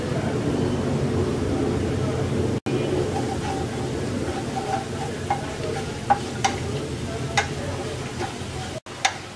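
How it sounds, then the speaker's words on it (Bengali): Onion and garlic browning in a pan for ridge gourd dal, a soft steady sizzle under a low hum, with a few scattered clicks and taps of a spoon stirring toward the end. "পেঁয়াজ রসুনটাকে ব্রাউন কালার করে ভেজে নেব।"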